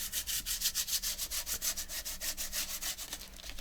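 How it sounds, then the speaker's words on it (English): Paint being rubbed by hand into a dictionary page for a mixed-media junk journal surface, heard as a soft, fast, even rhythm of brushing strokes, close and quiet, with no talk. "Only this time I'm just going to rub it."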